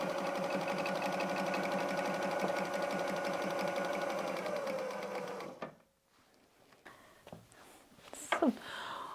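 A sewing machine stitching a patchwork pumpkin placemat for Halloween, running in a fast steady close rattle for several seconds before stopping, followed by quiet handling sounds of fabric.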